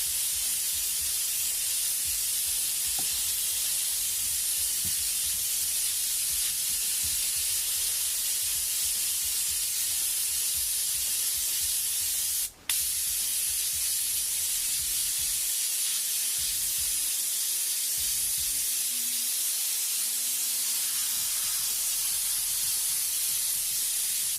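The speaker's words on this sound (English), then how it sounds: "So we get a nice wide spray as well as up close to find a couple of these little glares." An airbrush sprays white paint in a long continuous hiss, close and steady, with one brief break midway before the spray resumes unchanged.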